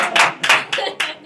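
A few audience claps at a Photoshop painting class: four loud, sharp bursts in quick succession, close and with no talking over them.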